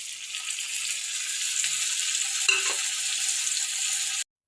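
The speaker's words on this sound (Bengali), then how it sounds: "এই যে এবার এটা আমি কষবো।" Spice paste of ground ginger, chilli paste, cumin and coriander powder sautéing in a pan, a steady soft sizzle with one brief stir or scrape midway, then it cuts off abruptly.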